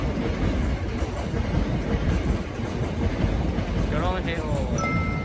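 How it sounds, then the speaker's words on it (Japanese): A train rumbles past close by, a loud, steady roar filling the whole stretch, with voices talking faintly underneath. "なんか俺の声を消すかのように電車が死ぬほどこっちに来る。"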